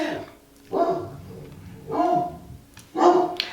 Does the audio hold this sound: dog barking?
yes